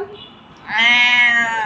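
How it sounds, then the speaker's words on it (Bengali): A house cat at a family home lets out one loud, drawn-out meow, close by, after a brief quieter stretch with a faint voice. "এই বিড়াল"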